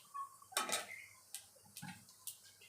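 A spoon stirs black cumin seeds in hot oil in a pan, making a few faint, scattered metallic clicks and taps with quiet gaps between them.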